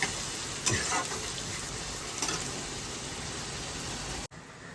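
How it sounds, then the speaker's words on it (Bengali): Onions frying in a pan until red-brown for an apple chicken dish, giving a steady, close sizzle with a couple of brief stirring scrapes before it cuts out near the end. "এবার পেঁয়াজটা একদম রেড রেড করে ভাজবো।"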